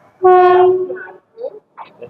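A Kamala Ganga Intercity Express train horn blares loudly for about a second with a steady tone, followed by rumbling railway noise and brief bursts of activity.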